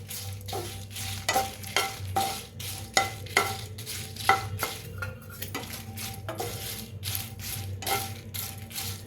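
Broken Byadgi chillies are dry-roasted in a pan, stirred with a quick, rhythmic run of scraping and clinking strokes against the metal over a faint crackle, close up and without speech.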